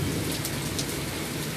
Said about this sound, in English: Rainy night, rainy, stormy night.